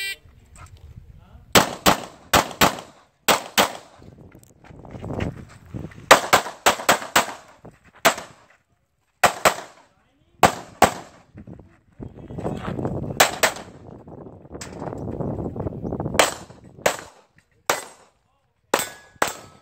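Gunfire at a speed-gun stage of a shooting competition: many sharp, close shots in quick bursts and clusters across the run, with pauses between strings and background voices and range noise in the gaps.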